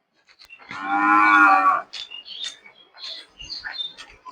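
A cow gives one loud, drawn-out moo close by, followed by scattered softer chirps and small rustling noises in an otherwise quiet rural setting.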